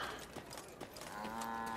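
A cow moos once, faint and low, in the fantasy video game Thronebreaker: The Witcher Tales, a short, drawn-out lowing over quiet game ambience.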